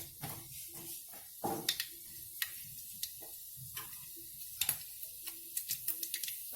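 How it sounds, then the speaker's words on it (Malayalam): Mustard seeds popping in hot oil in a pan, cooked Kerala style for a clam stir-fry, giving scattered sharp crackles and ticks at an uneven rhythm, fairly quiet and close, with no talking. "കടുകിട്ട് നന്നായി പൊട്ടട്ടെ."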